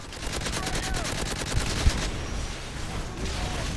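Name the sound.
gunfire in Spec Ops video game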